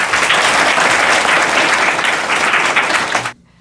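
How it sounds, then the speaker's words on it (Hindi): An audience at a government middle school claps loudly together in a dense, continuous burst for about three seconds, then stops abruptly into near silence. "हाँ, तो बजाइए ताली।"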